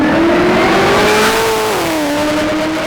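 A supercharged 650 hp LSA V8 in a Chevy SS sedan revs hard through an aftermarket Varex exhaust with a deep, raspy note, pitch climbing steadily then dropping briefly before settling back, loud and close.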